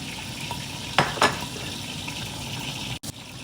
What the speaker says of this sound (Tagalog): Medyo iingay din sa parte ninyo kasi nandito ako magpiprito eh.